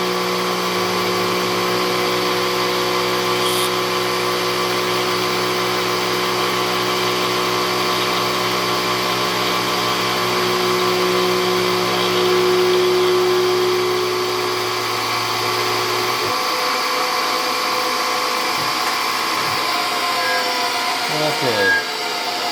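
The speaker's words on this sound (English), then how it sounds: "try to get the vacuum cleaner hose over here without disrupting the fan instrument." Vacuum cleaner running steadily in a small lathe workshop, a constant whining hum with layered tones held for most of the time before the motor note drops and winds down near the end amid some faint handling noise.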